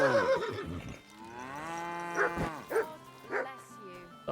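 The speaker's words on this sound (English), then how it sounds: "The horse sounds weird." An odd, drawn-out horse call in Kingdom Come: Deliverance II, somewhere between a whinny and a low groan, sounds close up, with brief talking around it.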